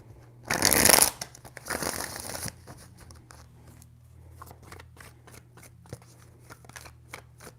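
Tarot cards are shuffled close by, a loud papery riffle up front followed by a second shorter burst, then soft scattered flicks and taps trailing off quietly.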